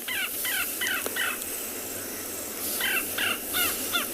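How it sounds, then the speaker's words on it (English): A grey go-away bird in South African bush gives two bursts of nasal, harsh repeated calls, three or four notes each, moderately near over a quiet outdoor background. "That's a grey go-away birds you can hear in the background."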